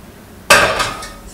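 A pot is set down on a kitchen stove with one sharp, close metallic clank that rings briefly, followed by faint lighter knocks as it settles.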